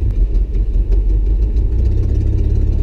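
A 1949 Chevy truck fitted with a Chevy 4.3 liter Vortec V6 idles close and loud, a deep, steady rumble with a slightly lumpy pulse that carries through without any voices.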